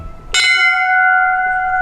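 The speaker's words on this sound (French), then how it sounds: "on sonne la cloche." A single bell at a site in Mauritius is struck once, giving a bright, loud clang that settles into a long, steady ringing tone, close and clear with no voices.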